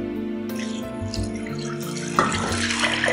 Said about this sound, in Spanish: Ahora le pongo el agua.